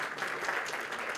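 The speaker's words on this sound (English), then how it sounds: "So we welcome him with a big round of applause" Applause from the audience at a Pakistani pioneers convention welcomes a speaker, a steady, dense wash of many hands clapping at moderate distance throughout, with no voices.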